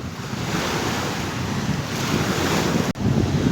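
Sea waves surging and wind buffeting the microphone on the Izmir coast, a loud continuous wash with a brief dip near the end and no voices.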